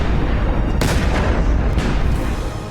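Gas-filled balloons explode in loud, booming blasts, two heavy detonations about a second apart over a roaring, rumbling background.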